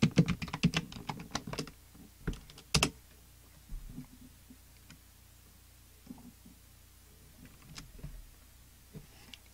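Fingers type on a computer keyboard while entering admin credentials during a Nextcloud personal cloud server setup: a dense, rapid burst of clicks up front, then sparse, scattered keystrokes fading into quiet.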